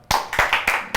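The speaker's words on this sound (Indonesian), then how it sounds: "Tepuk tangan dong." Four sharp, close hand claps in an uneven rhythm from a few people in a small studio setting for an Islamic talk show, each crisp and loud with a short decay.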